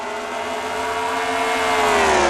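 NASCAR race cars roaring around the track in a racing video game, a loud, continuous engine whine that slowly rises in pitch as the cars build speed.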